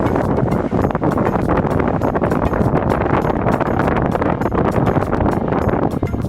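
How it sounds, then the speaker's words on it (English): A cold easterly wind blows across Hasse Fen, buffeting the microphone in a steady, loud roar with small gusting pulses throughout and no voices. "Savagely cold easterly wind."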